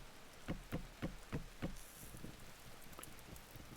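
Rain patters down in the Vintage Story game world, a run of soft knocking drops landing in a loose rhythm at first, then settling into a steady, fainter hiss of rainfall.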